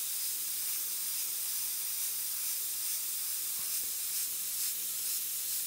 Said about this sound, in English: You don't have to worry now as far as spraying along the edge, because it's protected.